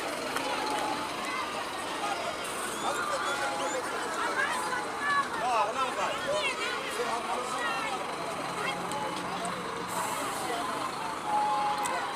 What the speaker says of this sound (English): So we've got 9 buses leaving.